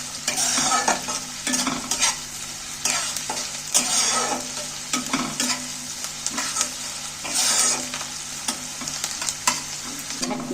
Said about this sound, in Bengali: ভালো করে নাড়াচাড়া করে ভেজে নিচ্ছি